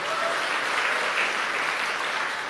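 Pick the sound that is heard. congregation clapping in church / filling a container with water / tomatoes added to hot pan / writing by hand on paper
congregation clapping in church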